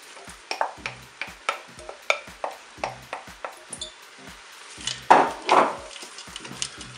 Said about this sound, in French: Je mélange bien sûr.